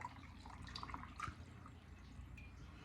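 Brewed coffee poured from a cup into a cooking pot, a faint, quiet trickle of liquid with a few soft drips and splashes in the foreground.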